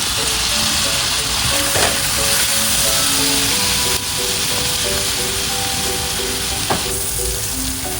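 Blended onion, garlic and ginger fry with spice powders and an anchovy stock cube in a hot pan for Malaysian chicken in sweet soy sauce, a loud, steady, close sizzle with faint stirring.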